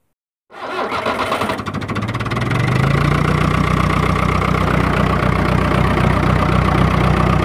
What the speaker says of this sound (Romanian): Deci asta a fost pornirea tractorii.